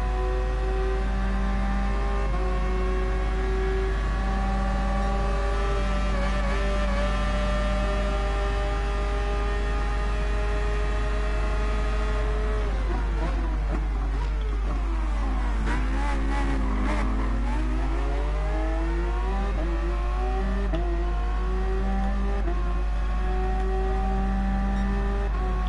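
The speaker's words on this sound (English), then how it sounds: "Mazda 787B and your screaming 4-rotor engine" A high-pitched Mazda 787B four-rotor race car engine in Gran Turismo Sport wails steadily, then drops and climbs again as it brakes and accelerates, loud and continuous with no talking.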